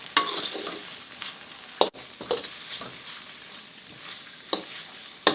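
Fried chicken noodles with shrimp stirred in a pan as the sauce cooks down, quiet sizzling broken by sharp spatula scrapes and clacks against the pan at irregular intervals, close up.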